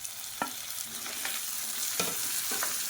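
Tomato frying with onions in a pan for tiffin sambar, a steady soft sizzle broken by several sharp stirring scrapes of a spoon against the pan, close and without talk.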